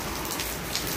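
Steady rain pours down on a surface, a dense, even hiss with scattered close drops, continuous throughout with no voices.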